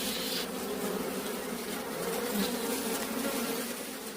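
Honeybees hum in a dense, continuous buzz around an opened beehive during a honey harvest, a steady close swarm drone with no talking.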